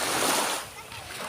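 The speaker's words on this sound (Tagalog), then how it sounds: "Nindot kayo ang tingog sa dagat." Sea waves wash onto a beach with a loud, broad rushing surge that swells and then eases into a softer hiss.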